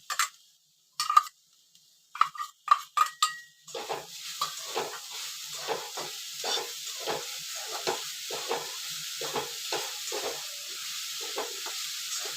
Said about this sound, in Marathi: खोबरं गरम झालंय आता त्यात मी गुळ टाकते